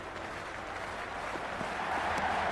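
A cricket stadium crowd before the first ball of a Big Bash League match, Perth Scorchers against Sydney Sixers, roaring in a steady broad wash that sounds distant and fills the whole background.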